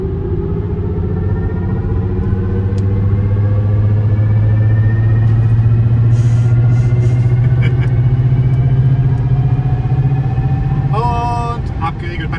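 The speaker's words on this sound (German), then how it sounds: "Sound Experience im Mercedes EQS. Vivid Flux." Mercedes EQS electric car plays its Vivid Flux synthetic drive sound while accelerating hard, a layered futuristic tone climbing steadily in pitch over a rolling road rumble, with a voice speaking intermittently inside the cabin.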